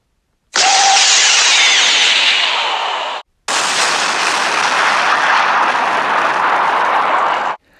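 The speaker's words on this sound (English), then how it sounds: "The attack severely damaged the main cannon, causing multiple explosions within the ship." A sci-fi flagship's main cannon fires and explodes: two loud, sustained roaring blasts, the first about three seconds and the second about four, split by a brief silent gap.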